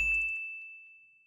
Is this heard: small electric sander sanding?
no